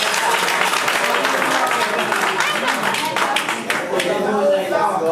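A church congregation claps and applauds together, a dense continuous wash of many hands that stays fairly loud throughout, with voices mixed in beneath the clapping.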